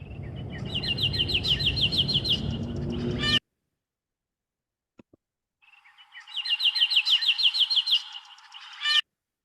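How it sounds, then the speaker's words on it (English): A small songbird sings rapid trilled phrases in two close, clear bursts, first over a faint traffic hum, then with the background noise stripped away. "Our second bird, we did the same thing. We removed the background noise."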